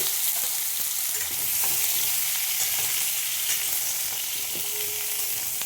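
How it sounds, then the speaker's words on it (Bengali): Mixed vegetables hit hot oil tempered with cumin seeds and a pinch of asafoetida, producing a steady, hissing fry with a few faint clicks of stirring, near and unaccompanied by talk. "এবার সব সবজিগুলো আমি এর মধ্যে"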